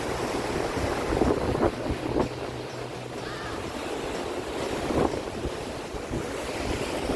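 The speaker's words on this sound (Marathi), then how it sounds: "लाटांना बघत बसणं खूप असं शांती फील होते" Sea waves wash onto a Ratnagiri beach shore in a continuous roar, with gusts of wind buffeting the microphone.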